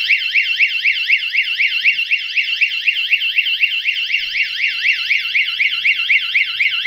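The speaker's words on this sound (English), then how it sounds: "you may see this hooter will start buzzing" An Arduino-based GSM security alarm hooter buzzes loudly and continuously, its electronic tone warbling up and down in a rapid, steady cycle throughout, with no other sounds.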